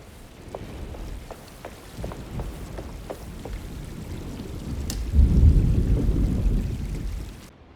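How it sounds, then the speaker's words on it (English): Thunderstorm ambience from the video game Alone in the Dark: steady rain with scattered drips, then a deep, loud rumble of thunder swelling near the end before fading. "Looks like a storm's coming."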